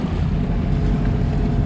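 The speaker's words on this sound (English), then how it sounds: "sorry about the noise of the engine" A sailboat's engine drones steadily and loudly, a rough low rumble with wind-like noise over it, near St Tropez.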